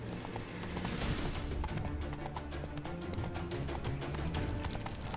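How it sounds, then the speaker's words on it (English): In The Witcher 3: Wild Hunt, a horse gallops with a continuous, rapid clip-clop of hooves under dense game sound and music, steady and fairly close throughout. "Run, Roach."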